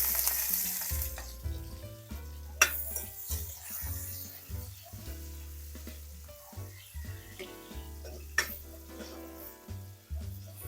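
Garlic (bawang) sautéing in a pan, a steady close sizzle with repeated scraping and stirring strokes throughout, occasional sharper clatters of a utensil against the pan, no voices.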